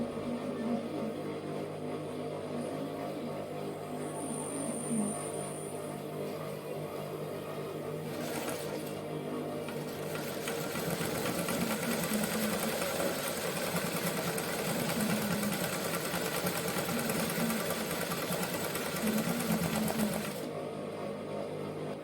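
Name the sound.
sewing machine embroidering around flower centre and petals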